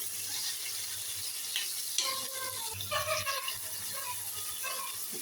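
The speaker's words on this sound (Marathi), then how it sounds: "ते थोडेसे बटाटे परतून घ्यायचे आहे. परतून घ्यायचं." Potatoes being sautéed and stirred in a pan for homemade soybean chilli, with a soft steady sizzle and a few scraping stir strokes, close and fairly quiet.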